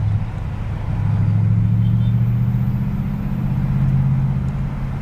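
A car engine at a race gives off a loud, sustained low rumble that swells and holds, with a droning tone that shifts in pitch midway.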